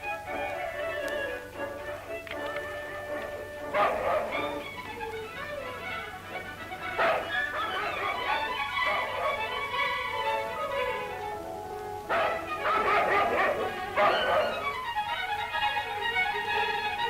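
Guard dogs on an alpine mountain pasture bark in scattered bursts over a continuous musical score, the yaps and woofs rising and falling at moderate distance.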